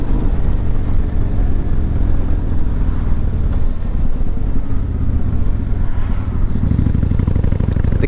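A 2005 Kawasaki Vulcan 800 Classic motorcycle with an 800cc engine rides along, giving a steady, loud, close engine drone with some wind rush that holds evenly throughout.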